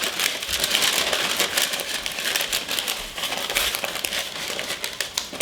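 Baking parchment paper greased with butter crinkles and rustles continuously while lining a cake pan for a San Sebastian cheesecake, a close, busy crackling with no pauses.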